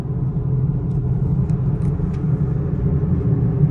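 Worn front wheel hubs on a moving Ford Mustang give a steady low rumbling drone inside the car, constant and moderately loud, with faint road noise and no talking.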